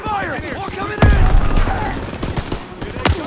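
Gunfire in the World War II shooter game Call of Duty: WWII, a dense battle fusillade with sharp heavy shots and rapid bursts throughout, loud and up front, with voices shouting over the fighting.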